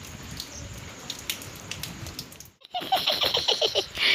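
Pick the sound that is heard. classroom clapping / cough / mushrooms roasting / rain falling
rain falling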